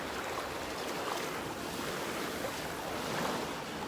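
Ocean surf washes onto a beach in North Naples, Florida, a steady broadband roar of breaking waves with some wind buffeting, close and continuous without speech.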